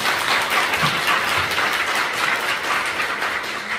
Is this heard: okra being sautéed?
no